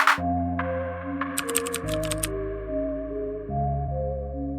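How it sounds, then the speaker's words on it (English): Rapid clicks of controller buttons being mashed in a Dragon Ball FighterZ match rattle faintly in a short burst beneath loud game music and effects. "you can hear the clicking of all the mashing that they're doing right now."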